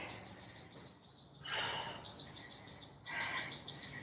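A workout interval timer during a kettlebell session emits a steady high-pitched electronic beep repeating in short pulses, with two brief bursts of noise breaking in, no talking.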